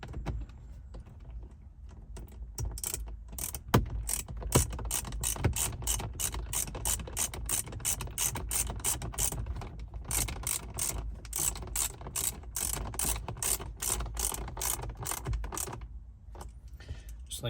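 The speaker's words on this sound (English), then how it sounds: "we will take our screw and reinstall it through the panel and through the bracket." A hand ratchet drives a screw through a trim panel and bracket while a phone mount is installed in a 2021-2024 Chevrolet Tahoe or GMC Yukon. Rapid, evenly spaced clicks run loud and close for over ten seconds, with brief pauses between strokes.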